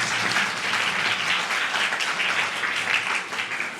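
A school event audience applauds during a welcome ceremony, with sustained, even clapping from a crowd throughout, moderately loud.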